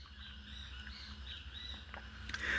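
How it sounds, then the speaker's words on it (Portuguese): Small birds sing and chirp in short bright phrases over a steady low hum, fairly faint and at a distance, with a slightly louder burst near the end. "os passarinhos estão cantando"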